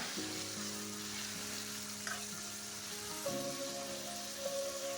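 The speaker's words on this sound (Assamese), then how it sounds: "এতিয়া মই মাংসখিনি ধুনীয়াকৈ ভাজি আছোঁ" Chicken pieces fry in a pan for chowmein with a steady, close, hissing sizzle that holds evenly throughout, with faint background tones beneath it.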